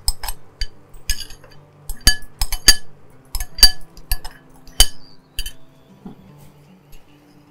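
Grated boiled eggs are mixed in a pan, with sharp, irregular metallic clinks and taps of a utensil against the pan rising over near silence.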